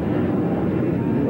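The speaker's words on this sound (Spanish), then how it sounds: "Va saliendo el avión." Airplane engine noise as a Magnicharters airliner departs on a Cancún–Guadalajara flight in 1995, a steady broad roar that fills the whole moment at even loudness, with no speech over it.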